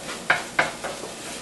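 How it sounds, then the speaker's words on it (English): Garlic frying in a little oil at the bottom of a wok: a soft, steady sizzle with two sharp stirring scrapes and a few lighter clicks, close and alone. "We want to cook our garlic in the little bit of oil that's left at the bottom of the"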